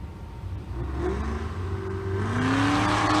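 Supercharged LS-powered drag race cars, a Pro-Charged LS and an LSA supercharged LS, rev their engines at a drag strip, a loud sustained engine drone with rising and falling pitch sweeps as the throttle climbs.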